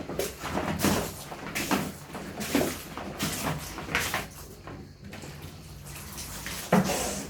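Water poured over a person bathing outdoors on a balcony, using sun-warmed water, comes as repeated splashing bursts about once a second, close and fairly loud, with no talking.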